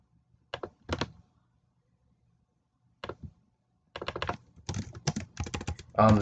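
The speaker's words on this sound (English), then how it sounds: "write a note for myself saying 3 hour cautious" Typing on a computer keyboard to write a short note, with a few scattered key presses, a pause, then a quick dense burst of clicks close by.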